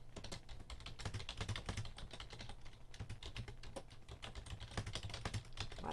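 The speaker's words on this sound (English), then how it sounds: "and then I just type my text." Rapid, continuous typing on a computer keyboard, dense close clicks and key taps with brief pauses, steady and clear with no voices.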